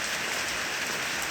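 Morning rain falls steadily on the first days of a new year, a dense, even hiss of drops hitting surfaces with no voices or other sounds.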